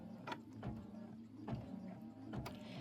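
Embroidery machine stitching a diagonal placement trim line, a faint, steady mechanical whir with soft rhythmic clicks about once a second, close and alone.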